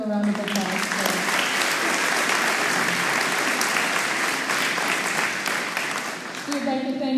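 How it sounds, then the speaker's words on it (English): Audience applause at a high school and middle school spring concert, a loud, dense, sustained crowd clapping that fills the whole stretch, with a brief voice at the start and end. "please give them a round of applause for that"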